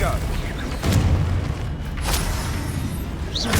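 Confringo blasting spell in Hogwarts Legacy combat, a deep booming explosion followed by a second blast under a dense, continuous rumble of battle effects, with brief bright whooshes and a voice calling out during the fight.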